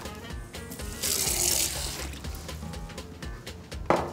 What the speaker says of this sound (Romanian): Apă rece de izvor.